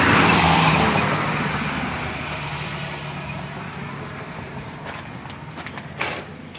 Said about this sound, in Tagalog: So may mga dumadaan na mga sasakyan.